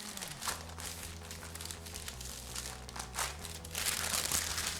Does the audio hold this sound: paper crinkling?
yes